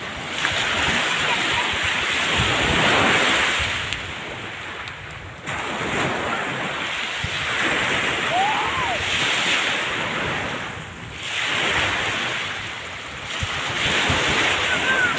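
Strong ocean waves at Pak Lotai beach in Singkawang, a steady loud roar of surf rising and falling in long swells, with heavy wind buffeting the microphone throughout.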